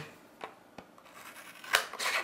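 A few sharp snips of Leatherman Raptor rescue shears cutting through thin cardboard, spaced irregularly, followed by a brief rasping slice, close up and fairly quiet.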